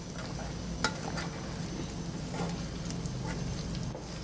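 A steady frying sizzle comes as ground spice powder is stirred into fried chicken pieces for pickle, with a few faint scrapes of the spoon against the pan.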